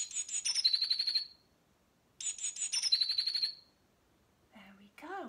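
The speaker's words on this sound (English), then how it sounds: "Blue Tit makes a sound like this." Eurasian blue tit calling in two bursts of rapid, high chirps ending in a trilled note, with quiet gaps between, followed by a brief faint voice.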